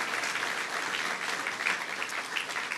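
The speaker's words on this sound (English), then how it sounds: "Let's give them a great round of applause." A crowd applauds steadily at a labor union hall event, dense sustained clapping without pauses throughout.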